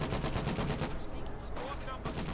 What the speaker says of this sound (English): 50 cal just shredding the Volksgrenadier